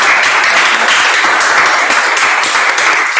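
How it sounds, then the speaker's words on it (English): A crowded hall at an election candidates' question time claps loudly for the candidates, steady dense applause throughout with no talking over it. "I think we should give them a round of applause just for that"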